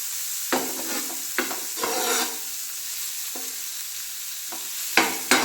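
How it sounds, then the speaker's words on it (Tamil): Masala being sautéed in a pan for Madurai-style muttai mass, with a constant close sizzle and occasional scraping strokes of a spatula. "இந்த மாதிரி வதக்குங்க"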